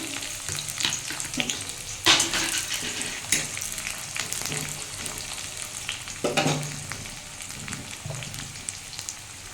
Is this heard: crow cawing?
no